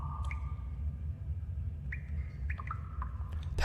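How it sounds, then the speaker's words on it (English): Short bird-like chirps and squawks from the Tales of Berseria video game play in a few separated bursts over a low steady hum, with no speech. "That chirping sound."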